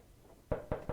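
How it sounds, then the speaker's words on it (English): Three sharp knocks on a door come close together, loud and near, against a quiet room with no talking. "There's knocking."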